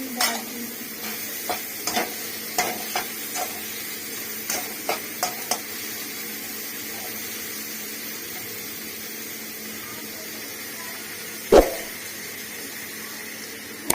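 Carrots frying for macaroni in a pan, stirred with a utensil: a steady sizzling hiss under a series of light taps and scrapes over the first few seconds, then one sharp clank near the end.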